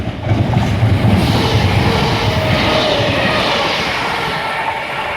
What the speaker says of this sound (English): Train now approaching, well, passing, is going to be a 319 bound for Liverpool Lime Street